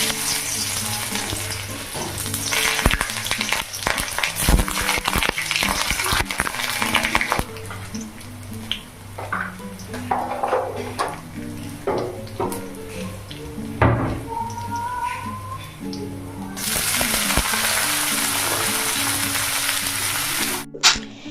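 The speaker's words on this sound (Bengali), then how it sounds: "এই যে পেঁয়াজটাকে কিন্তু বেশ ভালো করে ভেজে নিয়েছি" Onions fry in a pan with a loud, close, continuous sizzle, broken by stirring scrapes and occasional clinks of utensils, with the crackle surging and easing as the pan is worked.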